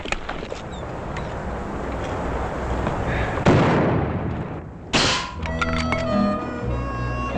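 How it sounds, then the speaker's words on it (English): Rifle shots crack out in an Old West gunfight, several sharp reports spaced apart, each followed by a decaying echo, with a louder close shot near the end amid ringing tail and background rumble. "Mighty fine shooting, Paul."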